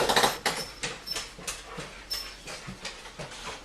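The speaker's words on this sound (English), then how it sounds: "Dogs." Dogs bark in a series of sharp, repeated barks, roughly one or two per second, moderately close and alone without talk.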